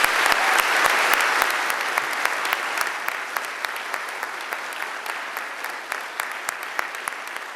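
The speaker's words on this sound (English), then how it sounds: "let's give her another round of applause" Audience applause at a Newport News Police Department academy graduation ceremony, a steady sustained round of clapping from a crowd filling the room, loud at first and tapering slightly, with no talking over it.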